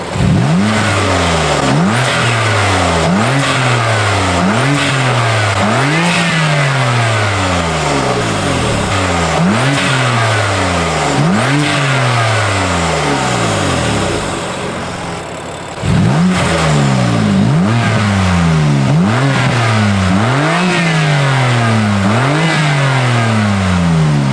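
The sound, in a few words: BMW F80 M3 engine with titanium intakes, turbo spooling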